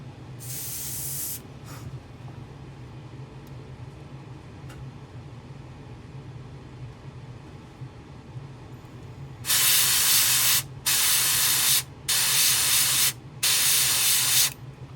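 An airbrush sprays paint onto a crawfish fishing lure, a hiss at the start and then four loud, close, sustained bursts in a row near the end, separated by short gaps, with a low hum throughout.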